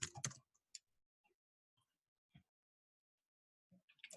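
Sparse clicks of a computer keyboard as a password is typed, a quick cluster of keystrokes at the start, a few isolated taps through a long quiet stretch, then another burst at the end.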